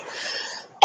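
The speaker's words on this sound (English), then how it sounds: "please excuse my cough" A breathy exhale leads into one short, sharp cough, close and clear.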